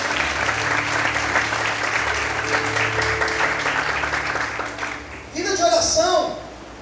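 A church congregation applauds steadily during a worship service, a dense wash of clapping under a voice, then the clapping thins and a few shouted voices rise near the end.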